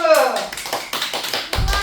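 Young preschool children in hanbok clap at a Korean heritage etiquette class, giving a quick run of sharp, uneven claps under a teacher's speech and children's voices.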